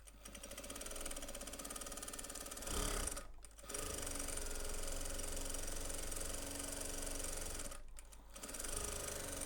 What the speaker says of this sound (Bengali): কাপড়টিকে ডাবল করে ভাঁজ করে চিকন করে সেলাই করে নিতে হবে।